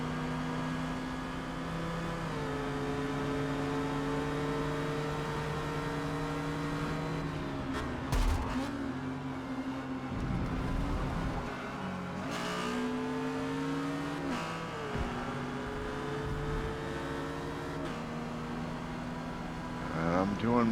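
Race car engines in Forza Motorsport, B class at Watkins Glen, drone loudly and steadily along a straightaway with shifting pitch and gear changes, while someone talks over them throughout.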